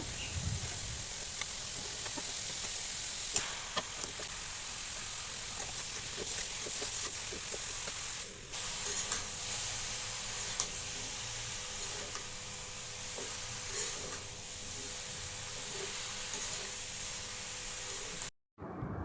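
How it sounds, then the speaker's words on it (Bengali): Bottle gourd pieces fry steadily in a hot pan with spices, a continuous sizzle and hiss running throughout, broken by occasional scraping stirs and a brief dip near the end. "মাছ তুলে লাউগুলো দিয়ে দিব, আর চুলাটা বাড়িয়ে দিব, আর কষাতে থাকবো লাউগুলো"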